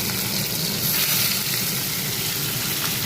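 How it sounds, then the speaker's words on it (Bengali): Katla fish pieces frying in oil make a dense, continuous close-up sizzle, a steady hissing crackle that holds evenly throughout with no voices over it. "এই যে মাছগুলো ভাজা হচ্ছে এখন"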